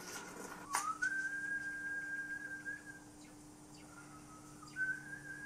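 Two people whistle signals back and forth: a long rising and sliding whistle, then a shorter answering whistle a few seconds later. Both are fairly faint and heard over a quiet background.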